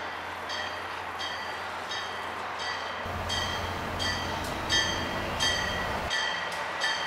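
An Amtrak Keystone train hauled by an AEM-7 electric locomotive rolls steadily past with a continuous rumble and rhythmic metallic clatter, fairly close, with repeated high tonal ringing from its electronic bell over the noise.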